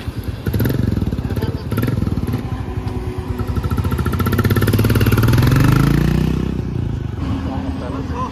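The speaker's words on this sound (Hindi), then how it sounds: "मैं नफीस की सीबीआर ले लिया हूँ, अभी जा रहे पेट्रोल डलाने" A Honda CBR motorcycle engine runs with a pulsing, throbbing exhaust beat up close, rising in pitch and loudness as it revs before settling back, while a voice speaks over it.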